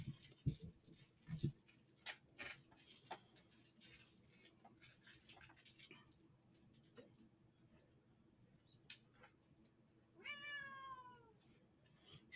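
Several cats meow in short, scattered calls across a quiet room, with soft taps and patter between them and a longer drawn-out meow near the end.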